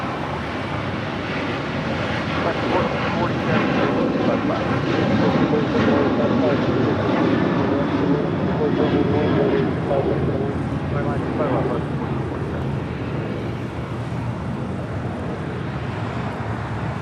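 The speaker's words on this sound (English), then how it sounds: "That was United Airlines Flight 644 heading to Houston." A United Airlines jet, Flight 644 bound for Houston, passing at LAX airport with a broad steady roar that swells and eases over wind noise.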